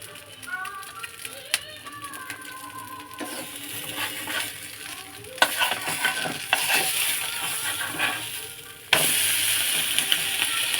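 Cauliflower kulcha frying in ghee gives a steady close sizzle, with occasional scraping and stirring clicks, and the sizzle grows louder partway through.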